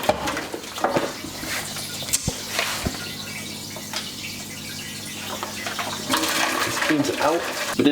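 Liquid supplement mix is poured into a container, a steady watery splash and trickle running through the clip with some louder bursts near the end, while a person talks over it.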